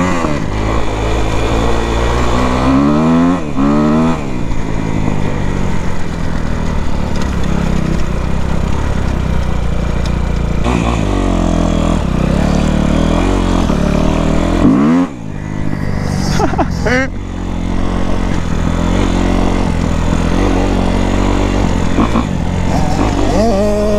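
A motorcycle with a 70cc Fast kit engine revs repeatedly as it rides, rising and falling in pitch, loud and close throughout.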